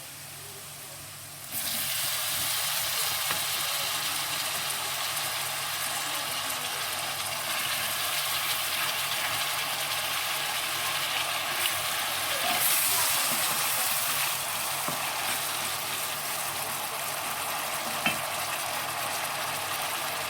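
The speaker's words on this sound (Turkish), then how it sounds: "Arkadaşlar şimdi mantarlarımızı ilave ediyoruz." Mushrooms sizzle loudly and steadily in a frying pan of vegetables for a shrimp dish, beginning abruptly as they are added, with the faint scrape of stirring underneath.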